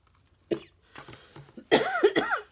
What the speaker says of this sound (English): I woke up with a cough.